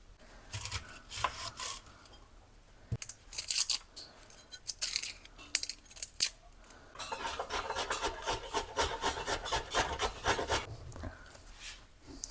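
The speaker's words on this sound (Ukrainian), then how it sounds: "морквину і натремо на терці" Raw carrot is rubbed across a kitchen grater for a vegetarian salad: close, rasping strokes come in irregular bursts at first, then settle into a quick, steady back-and-forth rhythm, with no talking.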